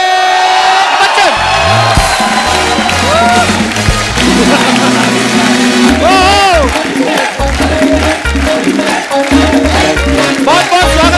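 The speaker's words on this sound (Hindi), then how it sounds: "बहुत बहुत स्वागत है, जोरदार तालियां।" A studio audience on a comedy talk show cheers, whoops and applauds loudly and continuously over music, with voices shouting above the crowd.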